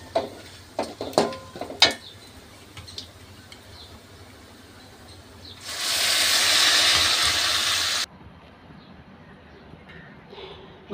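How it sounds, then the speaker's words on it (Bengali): Whole cumin seeds hit hot oil for a dal tempering, giving a sudden loud, close hiss that sizzles steadily for about two seconds and then stops, after a few sharp utensil clinks and quiet kitchen sounds. "এখন আমি বাগার দেব। গোটা জিরে দিয়ে দিচ্ছি।"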